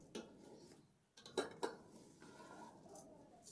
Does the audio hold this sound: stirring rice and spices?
yes